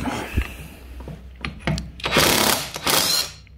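A Parkside 20V 400Nm cordless impact wrench loosens a bolt, with a few short clicks and bursts before rapid hammering rattles in two loud, close runs.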